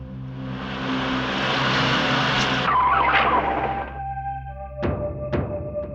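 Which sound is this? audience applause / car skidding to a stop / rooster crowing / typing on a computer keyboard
car skidding to a stop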